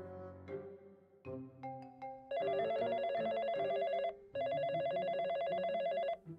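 A telephone rings in a loud electronic trill, two long bursts separated by a short pause, following a few scattered tones and musical notes.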